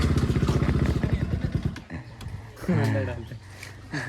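A motorcycle engine rumbles close by as riders pull up at a cave entrance to park the bike, starting after a stretch of voices talking and rising briefly in a low throb.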